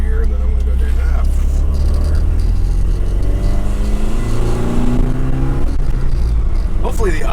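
A 1976 Alfa Romeo Alfetta GT drives through a quiet retirement-community town, its engine a steady low rumble that rises and falls as it turns, with a voice talking over it throughout.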